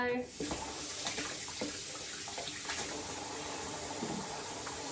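A tap runs steadily into a sink while someone washes their hands and face, with small splashes on top of the constant close water flow.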